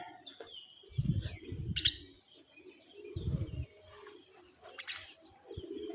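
A myna bird gives short chirps and calls while being hand-fed, the calls brief and close amid low thumps and handling noise.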